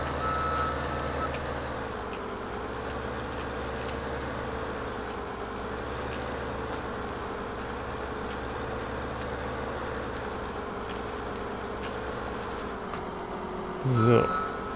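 Reversing beeps from a Ponsse forestry machine in Farming Simulator 17, a steady alarm repeating over a continuous engine drone that carries through the whole stretch, with a brief louder burst near the end.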